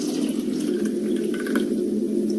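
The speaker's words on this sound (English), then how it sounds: "what comes off your produce, your fruits, your vegetables when you wash them off with regular tap water" Running tap water splashes steadily over fruits and vegetables under a faucet, a close, continuous wash with light dripping and no voices.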